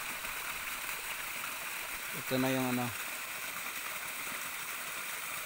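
Water from Manantiyal spring pours as a steady overflowing rush, a continuous broadband wash throughout, with someone briefly speaking over it.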